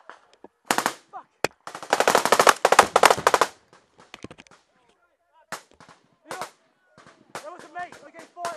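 Bursts of machine gun fire from a firefight in Afghanistan, loud and close, in sharp rapid volleys with pauses between, followed by scattered single shots and shouting voices.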